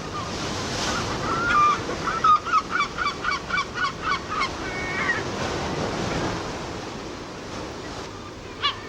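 Gulls calling along the surf on the Camino de Santiago coast: a series of harsh, rhythmic honking cries, about eight in quick succession, ringing out over a steady wash of waves and wind.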